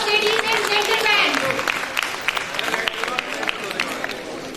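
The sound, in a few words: audience applause at a conference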